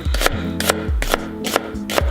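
A knife slicing an onion into julienne strips on a cutting board, five crisp chopping strokes in a steady rhythm, close and clear with no voices over them.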